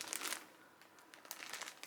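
A mini set of variegated yarn skeins rustles and crinkles in handling, faint and close, with soft bursts of crackle at the start and again near the end.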